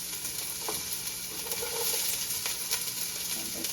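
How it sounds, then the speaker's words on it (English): Celery, zucchini and other vegetables sizzle in a tablespoon of oil in a soup pot. A soft, continuous hiss plays without speech, broken by a few light clicks and stirring taps. "There is a tablespoon of oil in the pot now, and I'm going to be adding all of the veggies"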